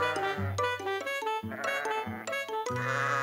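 Cartoon sheep bleat in a barn, several tuneful, wavering calls overlapping one after another over a musical backdrop.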